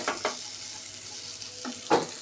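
Food frying and being stirred with Maggi masala in a pan, a steady soft sizzle with a few scraping stir strokes near the start and end.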